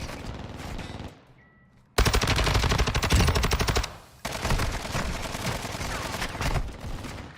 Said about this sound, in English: shooting through the damn wall